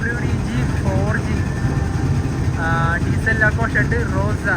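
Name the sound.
WDG 4G diesel locomotive engine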